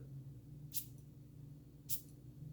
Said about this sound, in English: It's more of a dusting spray as opposed to a big wet spray.